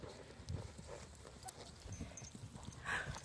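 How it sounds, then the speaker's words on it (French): A pony gallops during a riding lesson for young children, hooves clip-clopping in a steady rhythm at moderate distance, with faint background voices. "T'as dit galop et le poney, il a compris."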